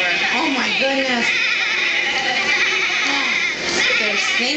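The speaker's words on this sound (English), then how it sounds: "They're singing. Those sheep are singing the song." Several sheep bleat over and over, some close and some a little farther off, their wavering calls overlapping against a steady background hum, with a person's voice faintly in between.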